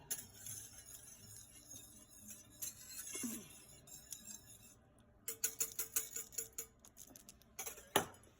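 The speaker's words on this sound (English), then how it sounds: "Let me stir it." Spoon stirring violet jelly with lemon juice in a pot, a run of light metallic clinks and scrapes that turn rhythmic and more distinct toward the end, with one sharp knock near the close.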